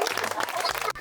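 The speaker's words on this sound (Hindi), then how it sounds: "चलिए जोरदार ताली मारिए तो इनके लिए।" An audience bursts into applause at a live food challenge show, a short, dense burst of clapping with voices mixed in.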